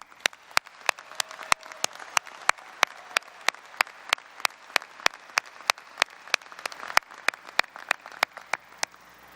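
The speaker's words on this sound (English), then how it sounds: "Would you all join me in a round of applause for our outstanding faculty?" Scattered applause for the faculty at a college commencement ceremony: distinct, sharp individual claps ring out in a fairly steady rhythm over a quiet room, sounding like only a few people clapping rather than a full crowd.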